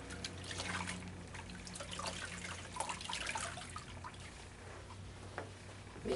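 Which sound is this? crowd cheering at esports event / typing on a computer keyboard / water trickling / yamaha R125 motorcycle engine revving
water trickling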